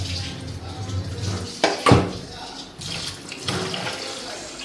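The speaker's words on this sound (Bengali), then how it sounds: "চালটা ধুয়ে দিতেছি" Rice is washed by hand under a running kitchen tap, with steady water flow, a couple of louder splashing swishes and grains rubbing in the pot.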